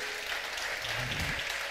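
Steady, dense applause from a studio audience at a Ligurian music show broadcast from the Estoril Beach Club, honouring a judge who is a backing singer; continuous and evenly loud for the whole stretch.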